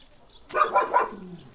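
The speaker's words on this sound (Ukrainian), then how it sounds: "Джек гавкає." A dog lets out three quick barks in a row, fairly close, against an otherwise quiet background.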